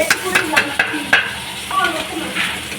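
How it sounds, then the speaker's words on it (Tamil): Onion, tomato, ginger and garlic sautéing in a cooker for mutton curry, a soft sizzle under scraping stirs and a few metallic clinks, with a voice talking over it. "பொடியை கட் பண்ணியிருக்கிற வெங்காயம் தக்காளி இஞ்சி பூண்டு போட்டு நல்லா வதக்கிக்கலாம்."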